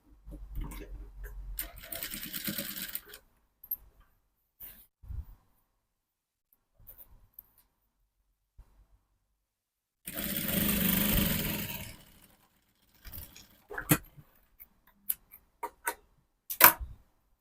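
A sewing machine stitches a zipper onto pleated palazzo pants in two separate runs of close, steady whirring, with a quiet gap between them and scattered clicks and handling taps of fabric toward the end.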